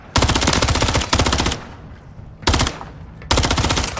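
Automatic gunfire in the video game Call of Duty rings out in three loud, rapid bursts separated by short pauses, each a fast rattle of close shots.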